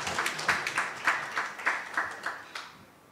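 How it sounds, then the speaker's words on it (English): Audience applause at a science forum, a modest round of clapping with distinct individual claps that rises, holds for a few seconds and then tapers off, heard alone without speech. "Let's clap for them."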